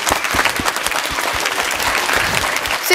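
An audience at a horse show with trick riding breaks into loud, dense applause, with many hands clapping in a steady crowd wash close by.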